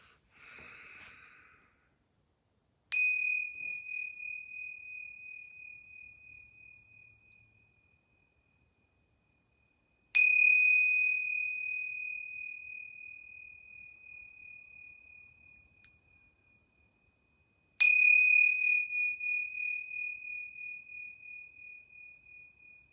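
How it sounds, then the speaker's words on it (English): Yoga bells ring three separate times, each strike a clear, bright tone that rings out and slowly fades before the next, in an otherwise quiet room. "Now I'm going to ring these yoga bells 3 times."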